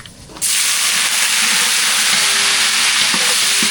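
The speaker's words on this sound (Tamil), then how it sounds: "வெந்தயம் நல்லா பொரிஞ்சிடுச்சு அதுக்குள்ளே கருவேப்பிலை சேர்த்துக்கலாம்" Fenugreek seeds and curry leaves dropped into hot oil, flaring into a sudden loud, steady sizzle after a brief quiet start, close and dense, with no talk.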